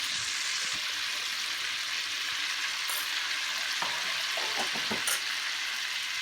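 Cumin seeds (jeera) sizzle in hot oil for a vegetable curry, a steady close crackling hiss that runs throughout, with a few sharper pops near the end.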